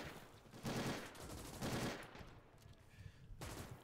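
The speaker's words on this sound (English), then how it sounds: "That machine gun is actually deadly" Machine gun fire in the World War II strategy game Gates of Hell: Ostfront on a Utah Beach landing map, sustained rapid bursts rattling close by in a battle soundscape, with no one speaking.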